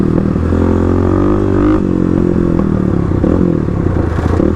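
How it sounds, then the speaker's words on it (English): A Kawasaki KLX351 dirt bike revs hard and loud as it powers out of a corner, its engine note rising and then shifting during a drifting slide, with no talking. "I'm gonna practice getting onto the gas a little bit earlier and trying to slide, well, I guess drift the KLX"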